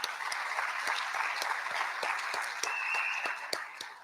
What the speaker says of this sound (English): another big round of applause for the Dream Team